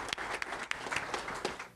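Audience applause at a public safety forum, a steady patter of many hands clapping with sharper individual claps poking through, moderately loud and carrying on throughout.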